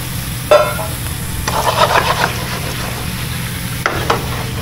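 Seafood fries in a pan in a ship's galley, giving a steady sizzle with occasional louder scraping stirs, heard close over a low engine hum.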